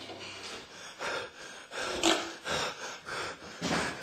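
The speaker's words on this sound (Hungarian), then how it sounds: "a srác úgy liheg, mintha lefutotta volna a maratont" A man pants heavily, with a rapid, rhythmic series of loud, close, rasping breaths, about seven in a row, each one pushed in and out with effort.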